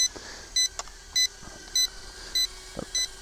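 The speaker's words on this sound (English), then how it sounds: "You get that annoying beeping noise as well." Short electronic beeps from a toy-class quadcopter drone repeat at a steady rhythm, about five evenly spaced tones over a faint mechanical whir, with no voices.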